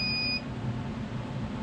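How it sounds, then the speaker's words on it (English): A multimeter set to continuity test gives a steady electronic beep as its leads touch, lasting under half a second, against a low background hum while wiring an Armattan Rooster 6-inch 6S FPV drone. "if it beeps, that means there is free-flowing continuity between the leads you're touching"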